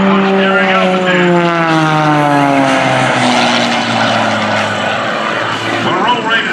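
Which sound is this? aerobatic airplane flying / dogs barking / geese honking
aerobatic airplane flying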